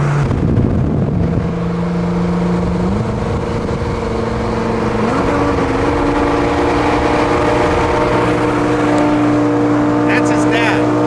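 A 2200hp Audi R8 on a highway before a race, its engine droning steadily with pitch stepping up in stages as it gears through, loud and close with wind noise, a brief burst at the start.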